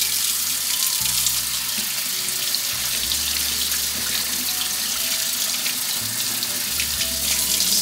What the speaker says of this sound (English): Actually, let's wash the spinach now.